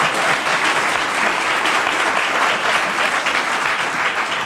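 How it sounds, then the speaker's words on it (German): A studio audience at a 1976 ZDF Sportstudio television broadcast applauds loudly and steadily throughout, with dense, continuous clapping. "Well, that was good applause."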